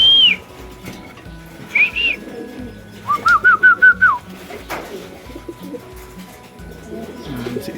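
Racing pigeons coo softly nearby in short bursts, one a rapid run of rising coos, over a quiet background with faint clatter.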